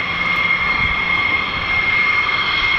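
Loud, steady roar of US Air Force F-15 and F-35 fighter jets in flight at RAF base, a continuous broadband engine rush with a strong high whine that holds unchanged throughout, no voices.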